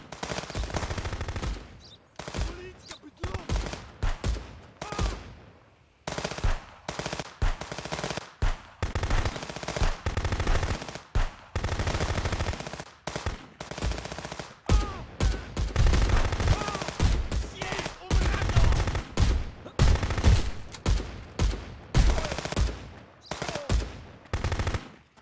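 Rapid, repeated gunfire from a police shootout in the video game Contraband Police, loud bursts of automatic and single shots running almost continuously through the clip with only brief pauses.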